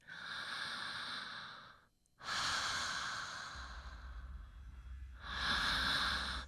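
Deep, slow breaths drawn in and pushed out through an open mouth, each long airy rush broken by a brief pause, close and soft with no talking.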